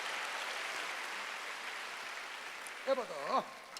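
A congregation at a Sunday worship service in a Korean church claps softly in a continuous, somewhat distant patter, and a brief voice cuts in near the end.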